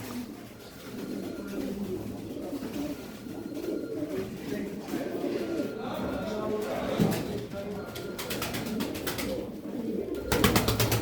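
Pigeons coo nearby in soft, repeated low calls over a busy background, with wing flutters and rustling toward the end.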